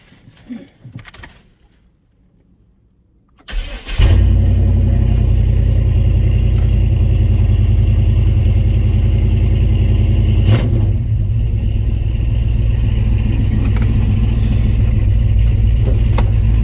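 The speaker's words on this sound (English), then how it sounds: "So I'm gonna go ahead and get this truck warmed up so I can get ready to take it down into the shop." A 1991 OBS pickup truck's engine is started for warm-up, then settles into a loud, steady low rumble that carries on unbroken, with a few quiet clicks and handling noises before it.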